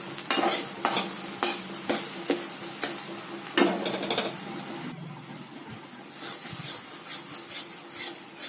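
Ridge gourd paste is stirred in a pan in brisk, regular scraping strokes over a soft sizzle for the first half, then the sound turns quieter and scattered.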